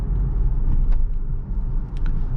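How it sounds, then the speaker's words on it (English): A 2021 Mercedes GLA petrol SUV cruises at highway speed, giving a steady low road and engine rumble from inside the cabin with faint tire noise and no talking. "we are doing a real world test, and we are driving at higher speeds"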